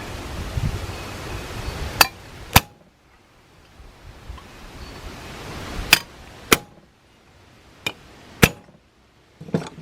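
A hammer strikes a rivet on a bronze Leslie back cap during diffuser plate repair, about seven sharp, ringing metallic whacks spaced irregularly, loud and close against quiet background hiss.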